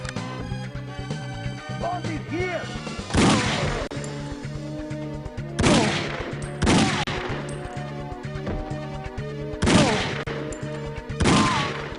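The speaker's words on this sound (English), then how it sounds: "That guy took 3 Raptor Magnum shots to the head to take down." Raptor Magnum pistol shots ring out in The World is Not Enough video game as four loud, sharp cracks spaced a few seconds apart, each with a short decaying tail over a droning musical background.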